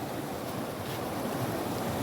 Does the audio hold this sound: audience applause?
no